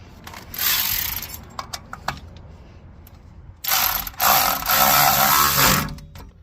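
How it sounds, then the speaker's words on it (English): A ratcheting tool drives screws to fix a parking brake bracket on the rear brakes of a Kia Sedona, with short clicking bursts, scattered metallic taps and two longer, louder runs of ratchet clatter close by. "You just have to screw this little bracket in place"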